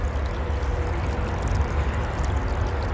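Small, quiet creek flowing in Pennsylvania woods in January, a steady soft rush and gurgle of water with a low rumble underneath.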